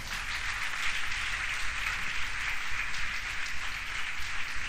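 Worshippers at a Sunday church service clap for the Lord in a continuous, even roar of applause heard from a slight distance, steady in loudness from start to finish with no speech over it.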